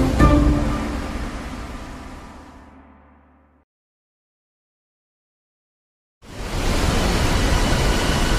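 A fading ringing tone dies into silence, then a loud, steady rushing roar of falling water from a waterfall bursts in and holds to the end, with no speech.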